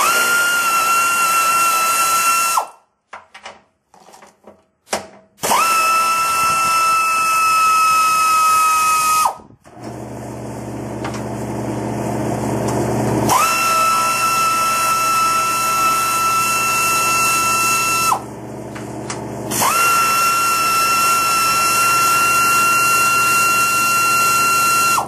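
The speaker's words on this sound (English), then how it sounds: "we're going to unbolt the 4 nuts that hold the transmission mount to the skid at 13 millimeter" A power tool spins off the 13 mm nuts holding the transmission mount to the skid on a Jeep Wrangler TJ with a 5-speed, in several loud, steady whining bursts separated by short pauses.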